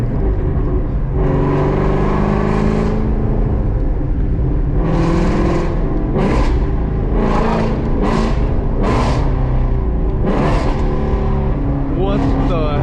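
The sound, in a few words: Ford Mustang GT350 engine revving during gear shifts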